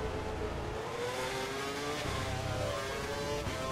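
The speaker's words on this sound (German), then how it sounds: "lass die Bremse los und das Auto geht hinten rum" An F1 race car in the game F1 2012 brakes and slides, engine note falling and shifting with tire noise throughout, loud and close.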